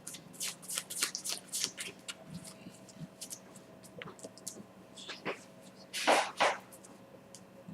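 Tarot cards being shuffled by hand close to the microphone, a run of quick crisp riffles and soft flicks in short bursts, with a louder flurry near the end and quiet speech at moments.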